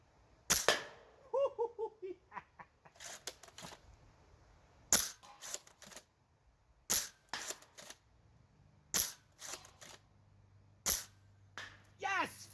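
Nerf blaster darts fired at a target from close range, a barrel attachment fitted: roughly ten sharp, snappy pops at uneven intervals, loud and near, with a brief vocal sound early on.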